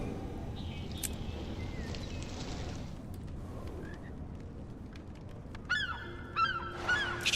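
Loud honking bird calls from a video game during a stream, arriving as a burst of repeated honks near the end over a steady noisy background.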